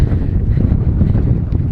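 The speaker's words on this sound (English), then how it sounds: "Woo, windy. It is very windy." Strong wind buffets the microphone outdoors at a remote abandoned railway station, a steady loud low rumble with gusty swells throughout the short stretch and no talking.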